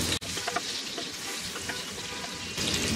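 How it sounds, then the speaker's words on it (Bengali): Capsicum and onion frying in hot oil in a wok, a close, bright sizzle with scraping stirring strokes, a sharp clack near the start and the sizzle swelling louder toward the end. "আমি এখন একটা কড়াইয়ে কিছু তেল গরম করে তার মধ্যে একটু ক্যাপসিকাম আর একটু পেঁয়াজ দিয়ে একটু ভেজে নিব"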